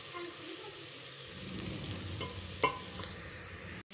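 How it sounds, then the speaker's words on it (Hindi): Bitter gourd frying in a small amount of oil for karela salan, a steady close sizzle with a few light stirring clicks and scrapes, briefly cut off near the end. "देखो मैंने ऑयल उतना भी डाला है जिसमें ये फ्राई हो जाए"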